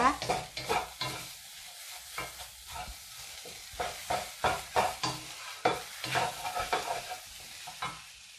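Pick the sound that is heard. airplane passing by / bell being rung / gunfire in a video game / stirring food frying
stirring food frying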